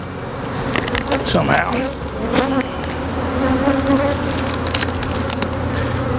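Honeybees buzz densely around a hive as it is moved, a loud steady swarm hum with individual bees darting close past, while a person speaks briefly.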